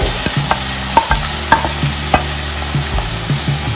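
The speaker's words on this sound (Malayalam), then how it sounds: "ജസ്റ്റ് ഒന്ന് ഇളക്കി കൊടുത്തതിന് ശേഷം ഓരോന്നും ഇങ്ങനെ ആഡ് ചെയ്ത് കൊടുക്കാം" Vegetables such as tomato, carrot and capsicum frying in a pan for egg Maggi masala, stirred with a spatula in repeated sharp scrapes and taps over a steady sizzle, close and fairly loud.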